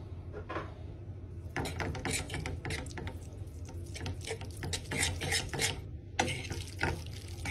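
Bacon, peppercorns and pasta stirred together in a pan for carbonara, giving a steady run of scraping, clattering strokes at close range with no talking.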